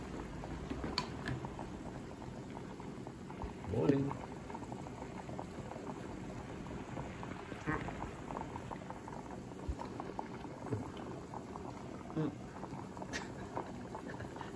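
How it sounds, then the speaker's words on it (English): A pot of braised yellowtail and daikon boils at a steady low simmer, soft bubbling and patter running throughout with a slightly louder burst near the start, while people talk quietly nearby. "Yeah, it's boiling now."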